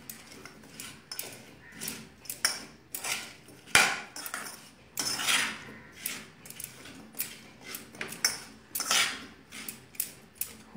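Shrimp are mixed with mustard oil, turmeric and salt in a bowl, giving soft irregular clinks and scrapes of a spoon against the bowl, close and quiet, with no talk.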